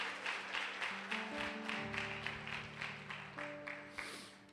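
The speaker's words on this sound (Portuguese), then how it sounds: "uma salva de palmas, parabéns" Audience applause at a church service, a modest round of clapping with sustained musical tones underneath, steady and mid-distance throughout.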